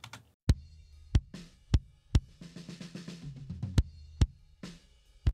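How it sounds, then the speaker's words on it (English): An isolated kick drum track from a studio drum recording gives punchy, evenly spaced thumps, with faint snare hits and a soft wash of cymbal bleeding in underneath. "Let me just disable this and we'll listen to just the kick."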